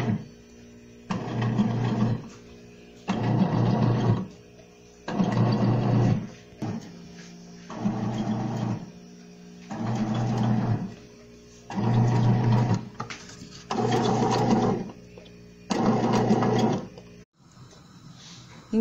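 A mini bread machine kneads sweet potato bread dough in repeated bursts of motor whirring, about eight loud pulses of a second or two each with short pauses between, close and steady with no talking.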